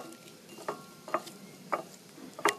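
Vegetables being tossed with extra virgin olive oil before grilling Italian sausage outdoors, giving a few separate soft wet stirring swishes spaced about half a second apart, close and fairly quiet with no talk.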